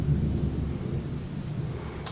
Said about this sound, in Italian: Questo è temporale.